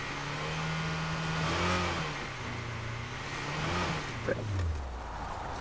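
A car engine in State of Decay 2 drones steadily with shifting pitch as the vehicle drives and revs, loud and continuous throughout, with no talking.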